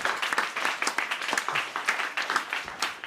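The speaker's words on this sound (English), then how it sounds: "He deserves a round of applause for that." Audience claps in a quick, uneven rhythm of distinct hand claps, fairly close and sustained, with no voices over it.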